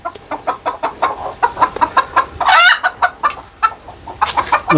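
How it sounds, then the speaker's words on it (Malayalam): Old brooding native hens about two and a half years of age cluck in short, repeated bursts at close range, with a brief louder squawk midway and no talk. "ഇത് നമ്മുടെ ലൈനേജിലെ പഴയ കോഴികളാണ്"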